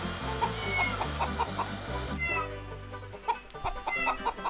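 Repeated cat meows and clucking chickens over a looping game tune in Farm Frenzy 4, the calls coming in quick bursts without any talking.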